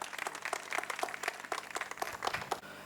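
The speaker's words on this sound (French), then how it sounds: "Des applaudissements, s'il vous plaît." Applause at a customary Congolese wedding (dot ceremony), a steady patter of many hands clapping throughout, fairly close and even in loudness.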